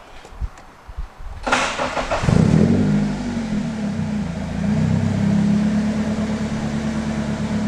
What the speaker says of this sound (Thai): เดี๋ยวผมลองสตาร์ทเครื่องยนต์ดูนะครับ